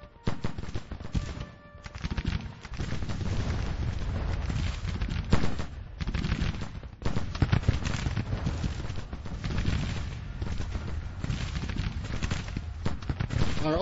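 Massed musket and artillery fire from a Civil War battle in Grand Tactician, Spring 1861 campaign: dense, continuous rattling volleys with heavier booms, a brief lull near two seconds and again near six, steady and moderately loud throughout.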